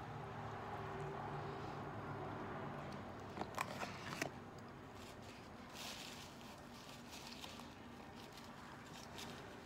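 A bite taken from a McDonald's crispy chicken sandwich, with a short cluster of faint crunches midway over steady low background hum, followed by quiet chewing, no talking.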